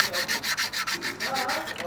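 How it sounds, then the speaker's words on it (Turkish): Rhythmic back-and-forth sanding strokes scrape a hard surface, the thermostat seat on a Renault Megane engine, about four strokes per second, steady and close with no talking. "Zımparalıyoruz."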